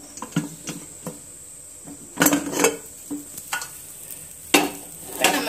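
Metal clatter of a cake tin being set onto a stand inside a preheated pressure cooker for an Oreo cake, several sharp knocks and scrapes spaced irregularly, close and fairly loud with no talk.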